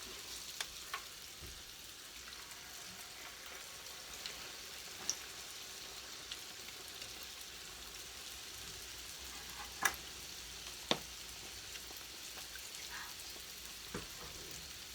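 Churros frying in oil in a frying pan, a faint steady hiss and crackle that goes on throughout, broken by a few sharp pops and ticks; quiet and close, with no talking.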